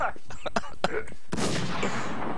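Gunfire in a shooting video game: a few sharp shots in quick succession, then a loud, sustained burst of shooting that fills the rest of the moment, up close and busy.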